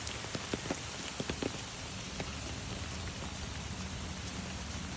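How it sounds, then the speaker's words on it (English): Light summer rain pattering steadily on dry ground and hard surfaces, a dense continuous hiss with scattered louder drops close by, no voices. "Just a little bit of rain"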